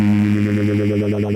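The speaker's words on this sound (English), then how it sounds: "I'm going to turn that drive up and use it on the bass pickup of my harp" A harp's bass pickup driven through a Drolo Kiwami drive pedal gives a short, thick, distorted low chord that rings with a slight wavering shimmer.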